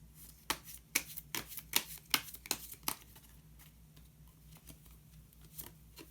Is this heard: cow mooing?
no